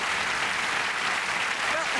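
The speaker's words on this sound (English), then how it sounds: "I hope you're going to get that applause" Studio audience applause on a British television variety show, a continuous even wash of clapping at moderate level with no breaks, and no voices standing out.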